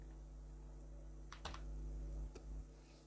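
A few quick keystrokes on a computer keyboard as an address is typed, isolated clicks in short bursts over a steady low hum, fairly quiet and close.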